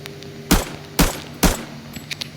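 Three single gunshots ring out at even half-second intervals in the shooter game Arena Breakout, sharp and close, followed by a few fainter clicks and taps.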